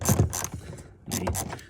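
A ratchet undoes the door pull-strap bolt on a Buick Reatta, producing two close bursts of rapid clicking with a short pause between.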